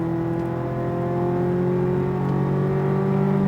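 A Corvette Z06 pulling hard on a race track at SpeedVegas, its engine a steady, loud droning roar that climbs gradually in pitch under full throttle, heard alone without talk.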